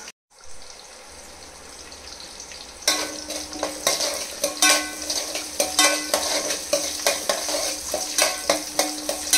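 Onion with ginger and garlic frying in oil, a quiet hiss that jumps into a loud, crackling sizzle, then rhythmic stirring strokes scraping through the pan every second or so.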